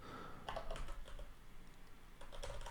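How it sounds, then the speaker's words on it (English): Typing on a computer keyboard during a coding session: quick bursts of light key clicks, a cluster near the start and another toward the end, close and moderately faint with a brief quieter gap between. "Wow, typing's hard."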